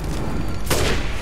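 Gunfire in the survival horror game Resident Evil Village, a sharp burst of shots near the middle standing out over a steady, loud game backdrop.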